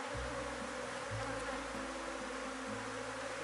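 Honeybees buzz around an open hive frame during hive splitting, a dense, steady droning hum with shifting overlapping tones, close and continuous throughout.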